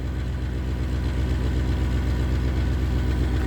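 A 1958 Edsel V8 idles steadily up close, its low rumble smooth and continuous with a faint rhythmic pulse, running alone with no voices over it.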